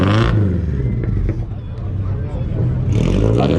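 A Subaru BRZ revs its exhaust at an outdoor Subaru exhaust competition, loud and close, with short bursts at the start and the end and crowd chatter and voices mixed in.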